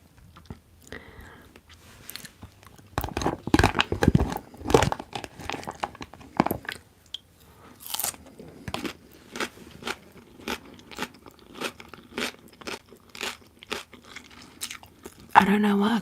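Crunchy bites and chewing of an Asian mix salad with shredded carrot, capsicum, leaves and corn, close and crisp, repeating in a steady rhythm across the clip with soft whispery sounds between bites.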